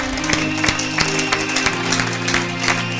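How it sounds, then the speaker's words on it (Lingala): A church congregation claps in rhythmic bursts over sustained music, the steady beats loud and close with a full crowd filling the room. "Acclamons pour la gloire d'Éternel, notre Dieu."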